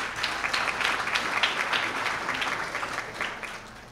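Audience applause for students' grandparents at a summa cum laude honor ceremony, a moderately faint, steady patter of many hands clapping throughout with no talking.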